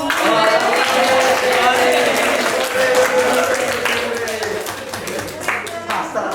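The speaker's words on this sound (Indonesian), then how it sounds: "Oke, tepuk tangan." A classroom of students applauds, a dense, steady patter of many hands clapping that gradually thins out, with voices mixed in.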